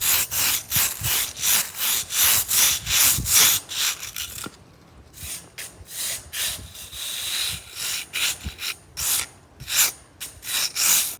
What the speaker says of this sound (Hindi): अब करते हैं ब्रश, और ब्रश जब आगे मारते हैं ज़रा।